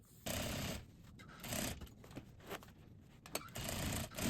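A sewing machine running in short bursts while stitching a zipper shield onto a pair of jeans, close and fairly quiet, with brief pauses between runs.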